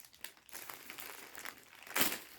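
A resealable plastic Amazon returns bag crinkles close up in brief rustling bursts, growing louder in a final crunch near the end, with no talking.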